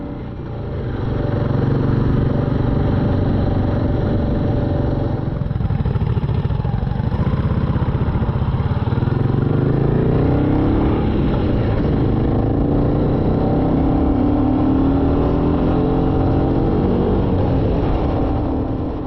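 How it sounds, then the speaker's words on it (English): Two Royal Enfield Classic 350 motorcycles, one stock and one modified with a larger 16-tooth sprocket, ride together with a steady, loud engine drone and wind rumble throughout, and no speech. "My bike can't keep up with Bob's with the larger 16-tooth sprocket."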